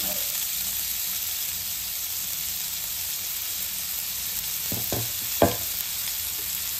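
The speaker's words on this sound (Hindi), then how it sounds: "मी तेलात घालते एक मीडियम कांदा बारीक चिरून घेतलेला आहे" Finely chopped medium onion frying in about a spoonful of hot oil in a kadhai, a steady close sizzle and hiss with a few soft stirring knocks, with no voices.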